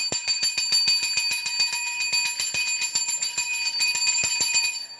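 A small metal bell rings in a rapid, steady series of bright, shimmering strikes, close and clear with sustained overtones and nothing else heard.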